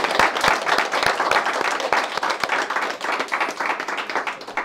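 Audience at a French science-themed quiz show applauds two winners, bright, close clapping with distinct individual hand claps, moderately loud and sustained without pause.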